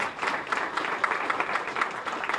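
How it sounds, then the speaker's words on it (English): Audience applause at a ribbon-cutting ceremony for a new building, a steady dense wash of many hands clapping at moderate loudness throughout, with no speech over it. "So a double round of applause for Jen."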